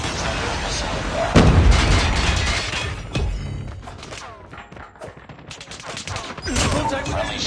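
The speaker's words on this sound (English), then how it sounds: "Friendly predator missile inbound." Predator missile strike explosions in a video game land as a heavy booming blast followed by rumbling, crackling detonations, loud and close, with game voice callouts mixed in.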